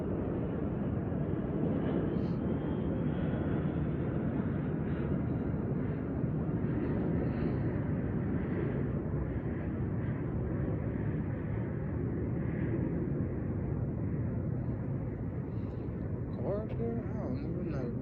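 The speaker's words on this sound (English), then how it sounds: "Pardon me while this plane go past." A passing airplane's broad, steady roar fills the whole stretch at dawn outdoors, loud and continuous, with a person talking over it throughout.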